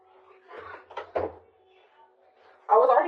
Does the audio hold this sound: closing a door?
yes